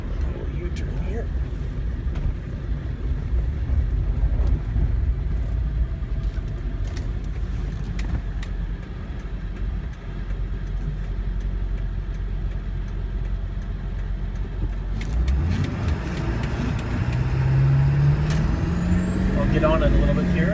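A 1999 Ford F-250 pickup truck drives and swings through a U-turn, its engine a steady low rumble throughout that swells louder and rougher near the end as it pulls away under more throttle, with road noise underneath.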